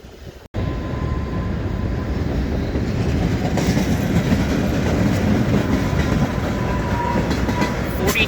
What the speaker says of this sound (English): We got a local train.